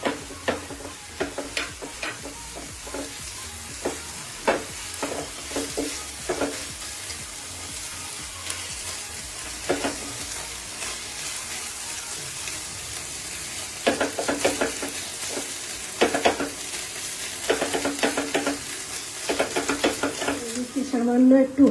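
Ginger garlic paste sizzles in a pan as a spoon stirs it, with repeated sharp scraping strokes over a steady frying hiss, close and fairly loud, and a brief voice near the end.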